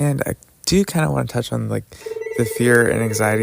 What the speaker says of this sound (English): All right, so that was a phone.